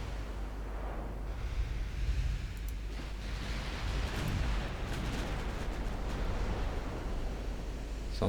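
Heavy naval gunfire from 15-inch battleship guns in the warship game Ultimate Admiral Dreadnoughts, Italy 1935, with cruisers in action: a constant deep rumbling roar of distant booms and blasts that runs through the whole stretch at moderate level, with no voices.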